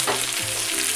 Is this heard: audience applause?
no